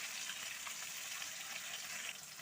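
Marinated fish, turned to its second side, fries in hot oil in a kadai, giving a dense, even sizzle that holds steady throughout at close range.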